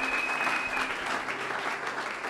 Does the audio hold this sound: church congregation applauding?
yes